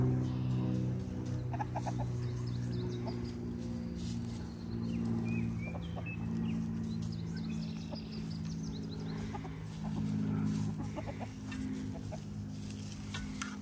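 A flock of backyard chickens clucks and murmurs steadily in a tall grassy run on an evening, the soft overlapping calls close and continuous with no talking.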